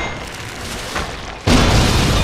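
A tank cannon shot in World of Tanks during a training battle, a sudden loud boom that cuts in sharply and sustains as a heavy rumble, preceded by quieter battle ambience.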